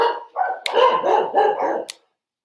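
A dog barks several times in quick succession, loud and close, with a couple of sharp clicks between barks.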